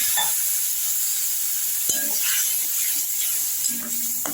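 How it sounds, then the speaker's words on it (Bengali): Vegetables for aam pabda, a fish curry with mango, sizzle in a pan while being stirred, with a few sharp clinks of the spatula and a steady hiss as water is added, close and without talking. "ভালো করে নাড়াচাড়া করে নিলাম আর দিয়ে দিচ্ছি একটু জল।"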